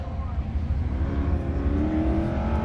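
A race car hauling through turns 3 and 4 at a King of the Mountain race, a steady engine roar holding high revs with a rising pitch, carried under an excited announcer's commentary.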